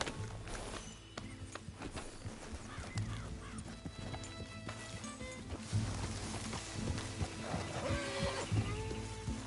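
Horse hooves clip-clopping with an occasional whinny inside a PS4 video game, a steady walking rhythm close by over game music and ambience.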